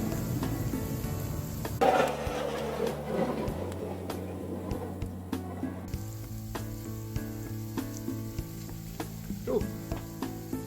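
Steak searing in hot oil outdoors, its fat rendering, makes a steady close sizzle and crackle with occasional spatter pops and a scrape of stirring near the start, continuing for several seconds alone.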